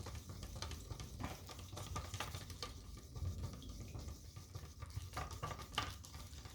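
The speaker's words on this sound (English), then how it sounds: "Take a clean, wipe down stick, and I'm just going to stir that for a couple minutes" Wooden stick stirring paint for a rainbow pour, soft continuous swishing and scraping with irregular wet taps against the container, quiet and close with no talking.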